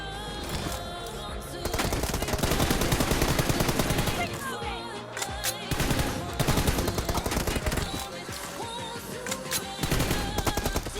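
Rapid bursts of automatic gunfire in the mobile battle royale game PUBG Mobile, loud and dense with brief gaps, then resuming in sharp volleys.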